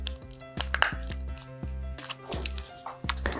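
Small screws being driven into a metal BP aftermarket shell on a Nintendo Switch Joy-Con, giving a string of close, faint clicks, ticks and light metallic scrapes with no talk.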